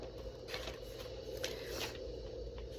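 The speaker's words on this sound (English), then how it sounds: "while I'm shuffling through my journal" Pages of a paper journal are shuffled and flipped, making soft, faint rustles and brushing swishes at an irregular pace, close by and without talking.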